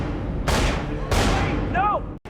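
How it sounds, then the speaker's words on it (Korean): Two sharp gunshots crack out in an office in a TV drama, about half a second apart, each with a broad blast and ringing tail, set against a steady room bed with a brief electronic chirp afterward. "사무실에서 들려오는 총소리."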